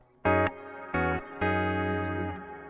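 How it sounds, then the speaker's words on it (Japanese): Guitar notes run through a BOSS RV-5 reverb pedal set to a long hall reverb with tone turned toward the low side, three struck notes each ringing out, the last sustaining and decaying with a faint high shimmer. "ホールリバーブみたいな"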